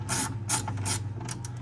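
Ratchet wrench clicking as it tightens a bolt on the rear window regulator of a 2014 Honda Civic sedan, with several bursts of rapid close ratcheting over a low steady hum.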